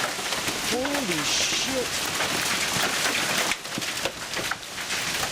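Large hail pounds down during a storm in Creve Coeur, Missouri, a dense, continuous clatter throughout while a man exclaims over it.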